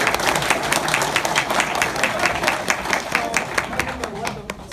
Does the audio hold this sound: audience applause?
yes